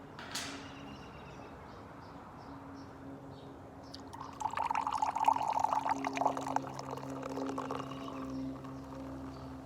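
Barq's root beer pours into a glass with a soft, steady fizzing trickle for several seconds, faint and close, over a low background hum.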